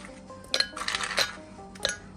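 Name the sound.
ice cubes dropped into a blender for a milkshake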